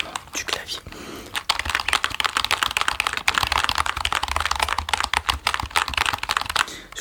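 Fast, continuous typing on a computer keyboard with LED lights, up close and crisp, the clicks running densely for most of the stretch with soft whispering underneath.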